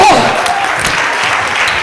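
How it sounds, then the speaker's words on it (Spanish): A church congregation applauding during an energetic Spanish-language sermon, a dense, loud burst of clapping that carries steadily throughout. "Mientras usted aplaude"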